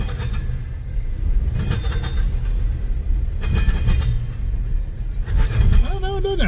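A CSX freight train rolls past close by, rumbling with steady clickety-clack from the wheels and brief bursts of rail noise, while a person talks over it near the end.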